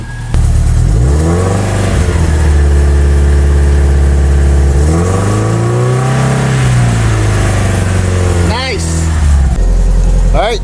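A Subaru Impreza WRX STI with a new HKS exhaust idles loudly and steadily, with a couple of smooth revs rising and falling, close by.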